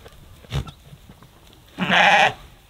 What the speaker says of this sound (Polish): Zobacz, jakie one fajne są te baranki.